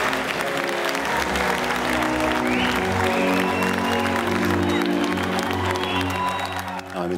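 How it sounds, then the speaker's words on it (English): Restaurant diners applaud chef Marco, a sustained round of clapping from a room full of people, loud and steady, with some voices mixed in underneath. "And they applaud you and they say thank you"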